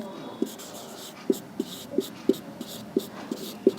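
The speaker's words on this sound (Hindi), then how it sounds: "यहीं पे लिखते हैं" Chalk or marker tapping and scraping on a classroom board during a history lecture, with sharp regular taps spaced about half a second apart over quiet room tone and no speech.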